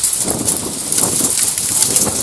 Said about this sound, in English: That's cold rain.